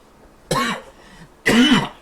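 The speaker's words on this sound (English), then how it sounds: "Again, I apologize for the coughing." Two harsh coughs with throat clearing, close and loud, separated by a short quiet pause.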